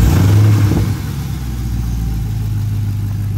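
A Camaro SS V8 with a K&N cold air intake roars loudly up close with a throttle blip, then settles to a steady, deep idle rumble with no one talking.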